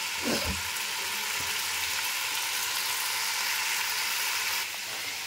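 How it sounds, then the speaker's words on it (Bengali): Boiled potatoes fry in a pan over a gas flame turned up high, giving a steady loud sizzle with a brief stirring clatter near the start. "একটু আঁচটা বাড়িয়ে দিলাম যাতে একটু ভাজা ভাজা হয়।"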